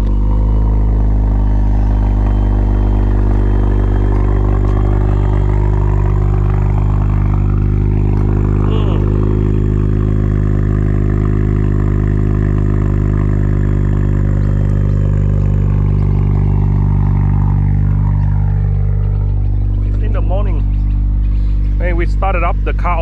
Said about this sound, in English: Let's warm up the car.